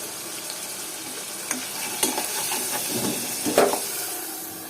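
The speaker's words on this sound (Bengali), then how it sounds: "একটু তেলের মধ্যে নাড়াচাড়া করে নিতে হবে এর মধ্যে দিয়ে দিব এখন একটু আদা" Ginger stirred in hot oil in a pan, a steady close sizzle and hiss with a few sharp scrapes and clicks of the spoon.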